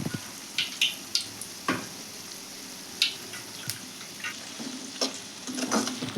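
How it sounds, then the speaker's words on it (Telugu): A sprig of curry leaves hits hot oil in a pan, giving a run of sharp crackles and pops over a steady sizzle, with stirring clinks, no voices. "కరివేపాకు అయితే వేస్తున్నానండి,"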